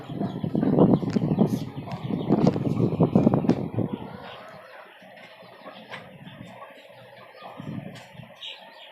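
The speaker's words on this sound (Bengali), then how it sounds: "প্রত্যেকটা মুরগি আপনার এরকম এই ঝগড়াঝাটি মারামারি করার অভ্যাস দেশি মুরগিগুলোর এই হচ্ছে সমস্যা" Desi chickens squabble and fight on a rooftop farm atop a five-storey house, with a busy burst of clucking and scuffling up close for several seconds, then a quieter spell and one more short flare-up.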